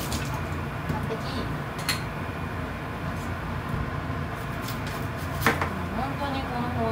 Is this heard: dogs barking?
no